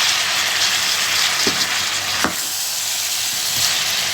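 Eggplant and tomato masala frying over medium heat in a karahi, a continuous even sizzle and hiss with a couple of faint stirring scrapes.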